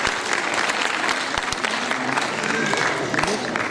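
Audience applauding at a Hindi literature and music award ceremony honoring the judges, dense steady clapping close by and filling the whole stretch with a few sharper claps standing out.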